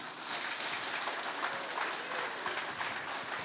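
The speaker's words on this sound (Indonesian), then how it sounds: "Beri dulu gemuruh tepuk tangan buat beliau" Sustained applause from an audience welcoming a guest speaker at an evening discussion event in Indonesia, a dense steady wash of many hands clapping with no clear breaks, moderately loud throughout.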